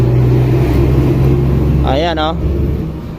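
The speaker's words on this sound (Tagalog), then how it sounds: "Pag napaandar niyo, maingay pa rin." A Yamaha Aerox 155 scooter engine idles steadily up close, a low continuous hum that stays noisy throughout, with someone talking briefly over it.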